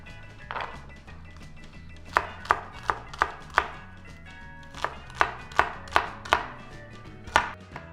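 A knife chops carrots into chunks on a cutting board, about a dozen sharp, crisp thunks in irregular bursts, close and clear with no talk.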